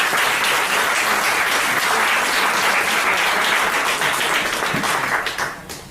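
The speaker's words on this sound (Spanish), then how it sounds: "Un aplauso." A class bursts into loud, sustained applause that fills the room and holds steady for several seconds before tapering off at the end.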